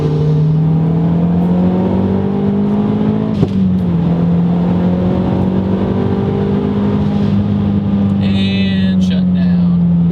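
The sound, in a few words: 2009 MazdaSpeed3 accelerating in third gear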